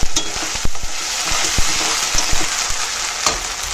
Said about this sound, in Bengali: আদা রসুনটা একটু ভাজা নিলাম, ভাজা নিলে ভালো হয়।